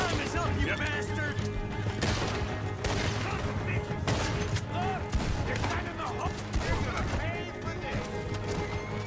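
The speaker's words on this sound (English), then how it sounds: "Some good shooting, Morgan." Gunfire from a Red Dead Redemption 2 shootout crackles in dense bursts amid galloping horse hooves and whinnies, with voices shouting over a busy, loud game mix throughout.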